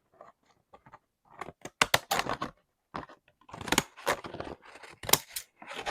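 Wet laser paper crinkles and crackles close up in irregular bursts of crisp rustling, separated by short pauses.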